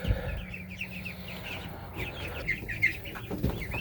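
A group of small ducklings in a pen peep and chirp in rapid, overlapping high calls, several birds close by, steady throughout with no talking.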